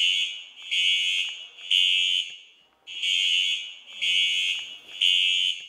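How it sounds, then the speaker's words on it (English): A school fire alarm rings in loud, repeated electronic bursts, each about a second long with short gaps between, piercing and close, with no talk over it. "The fire alarm's going off."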